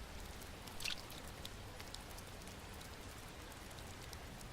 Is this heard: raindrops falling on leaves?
yes